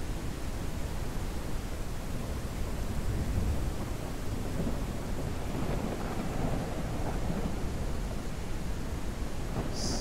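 A thunderstorm in the farming game Ranch Simulator rumbles as a dense, continuous roar of rain and wind with low thunder swelling underneath, steady and loud throughout with no voices.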